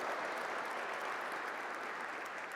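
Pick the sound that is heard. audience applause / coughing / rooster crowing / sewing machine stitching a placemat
audience applause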